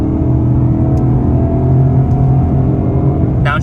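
Ford Mustang GT engine held high in the revs around 4,000 to 5,000 RPM, a loud steady droning rumble heard from inside the car, with no talk.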